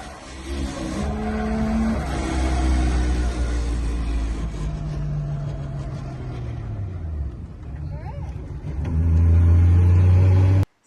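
Toyota 1JZ-powered drift car with a suspected failing clutch slave bearing, its engine running and revving steadily up close with a continuous mechanical drone, swelling louder near the end before cutting off abruptly.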